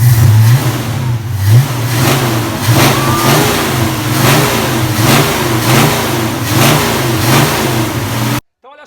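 A V8 5.2 litre car engine revs hard in a steady series of rising and falling pulls, loud and close, ending abruptly in near silence.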